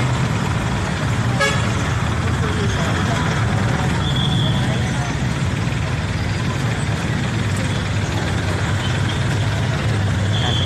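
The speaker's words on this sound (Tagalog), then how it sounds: "Traffic pa din." Busy street traffic near SM Lipa in the Philippines, with a steady roar of trucks, buses and cars, a brief horn toot early on, and people talking over the continuous road noise.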